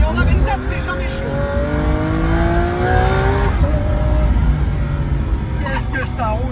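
A car overtakes on the A24 motorway: engine and road roar build as it pulls past, with rising and shifting engine tones, while people talk excitedly inside the car.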